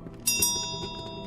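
A bell is rung in the Portuguese-made horror video game Evil Below, a sharp metallic strike followed by a second, with steady high ringing tones sustaining and slowly decaying, no talk.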